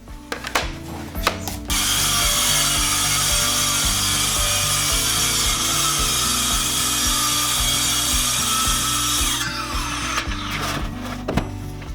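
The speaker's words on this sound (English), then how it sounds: "cutting those now to length as well, and just did that using the crosscut jig here" A table saw fitted with a crosscut jig cuts plywood sheets to length. A few clicks and knocks come first, then a loud steady saw whine holds for several seconds before spinning down into handling clatter.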